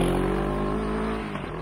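Moto Morini X-Cape 650 motorcycle engine pulling steadily under load on the road, a loud continuous drone with wind rush, slightly easing near the end.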